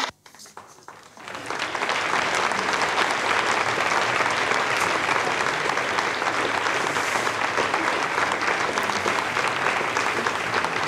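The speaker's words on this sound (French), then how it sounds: "On entend les applaudissements," Sustained applause and cheering fill the Arianespace launch control room after confirmation of satellite separation, a steady dense clapping that swells in and continues throughout.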